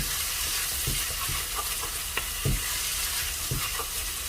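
Spice masala frying with yogurt in a pan gives a steady, dense sizzle with occasional soft stirring knocks and scrapes, close and fairly loud, with no talking.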